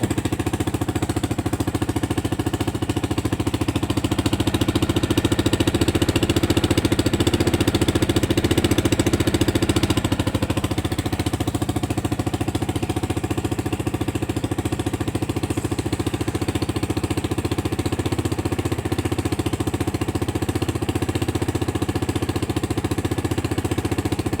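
A moped engine left standing unused for about a week runs steadily at idle, a loud, even mechanical chatter that continues unbroken without any talk.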